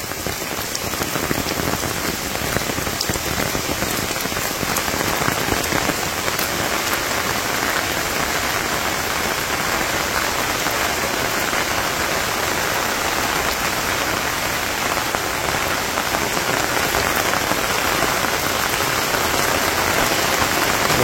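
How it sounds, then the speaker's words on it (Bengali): Heavy monsoon rain pouring down in Bangladesh, a dense, loud, unbroken roar of drops drumming on surfaces that holds steady for the whole stretch, with no voices. "একদম মানে ভরপুর বৃষ্টি, মন ইচ্ছা মতো নামছে।"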